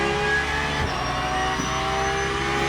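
A Porsche 992 racing car on the Le Mans Circuit de la Sarthe in a racing video game hums steadily as the engine builds, a continuous tonal drone with no talk over it.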